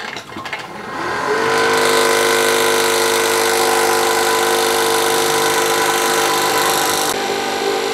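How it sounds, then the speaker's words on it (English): A Harvest Right Premier vacuum pump for a freeze dryer starts up and settles into a steady, loud motor drone with a constant whine, running on without a break. "And we're gonna get this Premier pump fired up."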